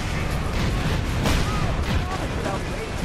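Rockets firing during a battle race in the Cars 3: Driven To Win video game, a dense roar of blasts and booms over constant engine noise, with a voice talking over it.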